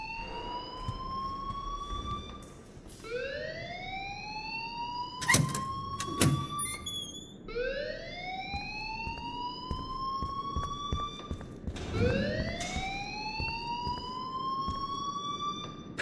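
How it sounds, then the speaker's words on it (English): A school alarm in the video game Life is Strange Remastered wails with repeated rising siren sweeps, each lasting a few seconds, with a couple of sharp clanks in between, moderately loud and steady. "please turn off that alarm since that's your job"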